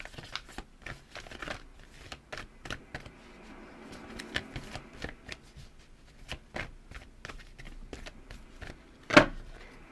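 A deck of tarot advice cards is shuffled up close in quick, crisp riffles and soft slaps, with one sharper snap near the end and no speech.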